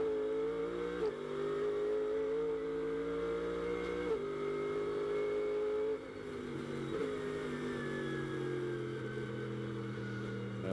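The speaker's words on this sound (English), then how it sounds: "As we go back on board the CrowdStrike Mercedes of Kurtz and Brown behind the wheel" Onboard a CrowdStrike Mercedes GT race car lapping Sonoma in a Blancpain GT World Challenge America race, the engine droning loud and steady, with rising pitch through the gears and sharp drops at each shift.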